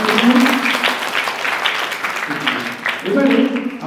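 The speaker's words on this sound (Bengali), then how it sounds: "আর একটা জোরে হাততালি ওনার জন্য।" Audience applause at a Bengali Agomoni Durga Puja cultural program, a steady, fairly loud patter of clapping through most of the stretch, with a voice speaking over it at moments.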